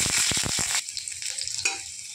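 Five-spice seeds fry in hot oil with a loud, dense crackle that lasts under a second, then settles into a faint, scattered sizzle.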